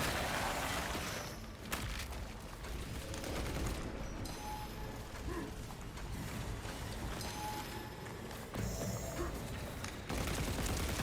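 Sustained gunfire and mechanical clatter from a Space Marine 2 battle against a swarm, a dense, continuous wash of shots and metallic noise with no clear gaps.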